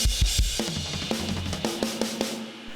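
A drum kit plays the closing two bars on the crash cymbal, with loud bright crash hits ringing over punchy kick and snare strokes in a quick rhythmic pattern, close and clear with no voices.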